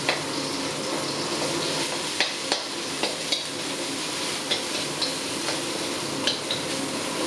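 Pounded chili paste stir-fried in a pan for Thai nam prik ong: a continuous close sizzle, with a spatula scraping and tapping against the pan in irregular clicks throughout.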